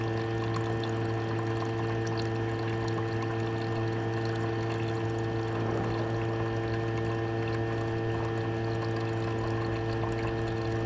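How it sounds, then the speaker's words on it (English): Cold water pours steadily to rinse silver recovery filters, a continuous close splashing wash over a strong constant hum. "the first few rinses here are just going to be with cold water"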